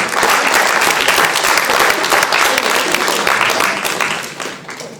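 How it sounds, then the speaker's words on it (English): Loud, sustained applause from a large crowd at a panel discussion event, steady clapping throughout that begins to fade near the end. "Everybody, can we clap for them?"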